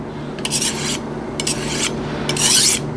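A few slow, soft rasping strokes of a blade drawn across a fine whetstone, separated by brief pauses, close by with no talking.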